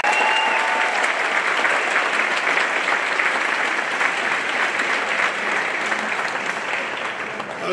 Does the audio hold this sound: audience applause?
yes